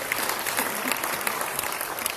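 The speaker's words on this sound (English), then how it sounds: "Can we give them a big round of applause" Audience applause at a technology industry keynote symposium, steady dense clapping from a large crowd throughout.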